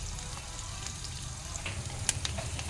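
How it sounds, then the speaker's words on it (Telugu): Tempering spices frying in oil with turmeric for lemon rice, a soft steady sizzle close by with a few faint clicks and stirring sounds, no talk. "పోపు దినుసులు అన్నీ వేసాను, ఇంకా ఫ్రై అవుతున్నాయి"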